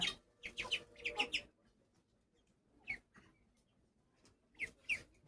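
Peruvidai country chickens forage outdoors, giving several short clucks and chirps in bursts, fairly close but soft, with quiet pauses in between.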